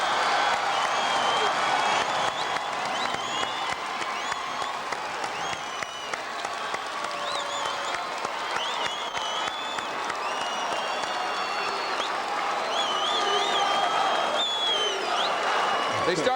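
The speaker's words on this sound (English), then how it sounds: "Applause coming up for Turquoise Irving, has just made to the podium, and there's the doctor." Crowd applause and cheering at a parade tribute to Dr. J, a dense, sustained roar of clapping, whoops and shouts from a large outdoor crowd, continuous and full, with voices mixed into the din.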